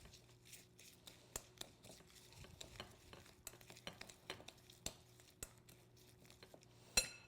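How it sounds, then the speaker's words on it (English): Spring onions being stirred in a frying pan for Korean cooking, heard as quiet, irregular scrapes and taps of a utensil over a soft sizzle, ending with one sharper clack. "Give it a good stir."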